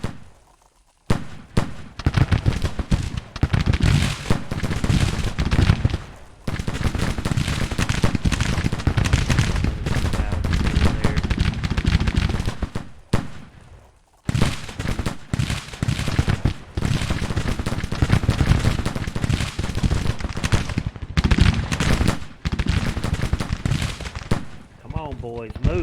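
Musket volleys in an 1863 Civil War battle in the strategy game Grand Tactician, dense, crackling gunfire that runs in long loud stretches broken by brief lulls.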